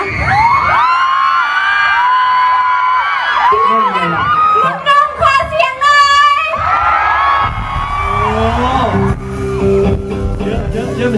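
Girls in a music festival crowd scream loudly and continuously, with high shrieks and whoops rising and falling close by, mixed with shouting voices.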